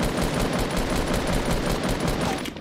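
Rapid automatic gunfire in a video game, a dense steady stream of close, loud shots rattling on without a break.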